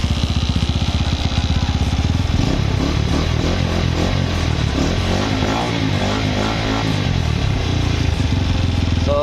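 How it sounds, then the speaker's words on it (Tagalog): Motorstar Xplorer 250 motorcycle with a noisy dry clutch, the engine running loud and close with a steady thumping idle, while the clutch adds a busy rattling clatter over the top. "Basta dry clutch medyo maingay siya, no?"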